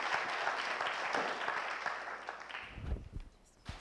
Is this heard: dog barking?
no